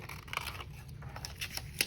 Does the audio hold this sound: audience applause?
no